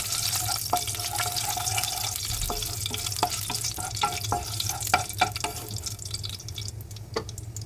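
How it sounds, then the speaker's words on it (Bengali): Cumin seeds and bay leaf frying in hot oil in a wok, a steady sizzle dotted with sharp crackles and pops throughout. "কড়াইতে তেল অ্যাড করে ফোড়নে দিয়ে দিলাম সাদা জিরে আর তেজপাতা।"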